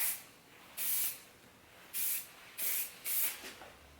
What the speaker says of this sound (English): So I'm just going to spray this down.